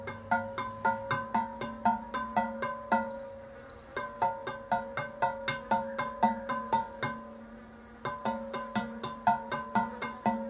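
Ceramic birdbath bowl bells made in Vietnam ring out in quick, uneven runs of bright struck tones, each strike leaving a sustained humming ring. The strikes come in clusters with brief pauses, loud and near, and no one speaks.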